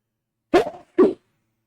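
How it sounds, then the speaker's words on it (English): A single person's sneeze in two quick bursts, a short sharp intake-like blast followed by a second explosive burst about half a second later, close and loud against silence. "I might sneeze."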